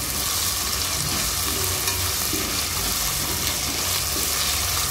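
Onion and potato frying in ginger garlic paste for leftover-rice fried rice, a dense, even sizzle close at hand with faint stirring knocks and no voices throughout.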